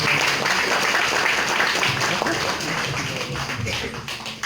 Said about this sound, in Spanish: Fuertes los aplausos para él, por favor.